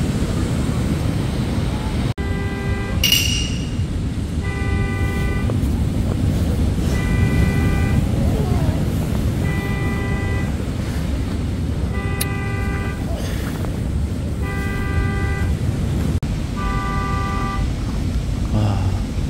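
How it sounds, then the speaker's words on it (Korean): Car horn honking in repeated bursts at a seaside campsite in Yangyang, Gangwon Province, in the small hours of the night, each blast spaced a few seconds apart over a steady low outdoor rumble. "빵빵대고 있어요."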